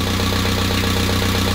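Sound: car engine idling

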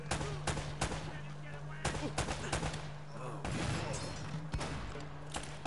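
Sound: gunfire at a barrel in the video game Uncharted

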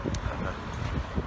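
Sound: wind

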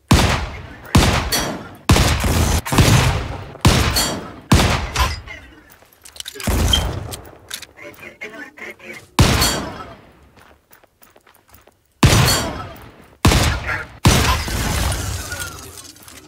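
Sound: gunfire in Volcanoids video game

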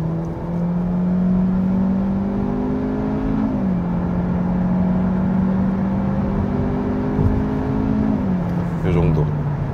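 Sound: Hyundai Avante 1.6 gasoline accelerating in sport mode

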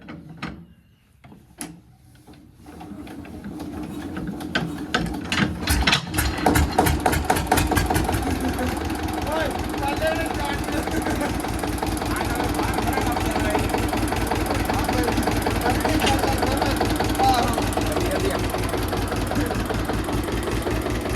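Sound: tractor engine started and running in cold weather

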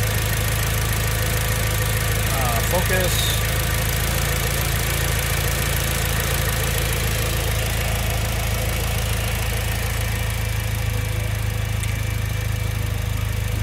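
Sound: 2006 Mitsubishi Lancer EVO 9 MR engine idling

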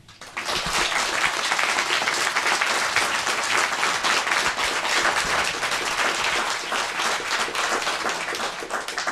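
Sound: applause for a cimbalom folk band

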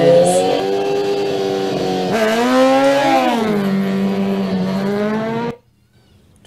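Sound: motorcycles racing at the Isle of Man TT

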